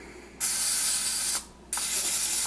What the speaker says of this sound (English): you want to spray your hands with the cooking oil